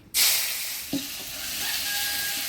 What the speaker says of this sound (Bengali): ফোড়নে দিয়ে দিব গোটা জিরা, শুকনো লঙ্কা, তেজপাতা, দিব পেঁয়াজ কুচি